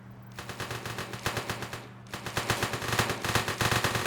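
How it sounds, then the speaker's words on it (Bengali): Rapid automatic gunfire in the video game One-armed robber crackles in fast, loud bursts, a first volley, a short pause, then a longer sustained stream of shots. "মানে তো গুলি চলছে।"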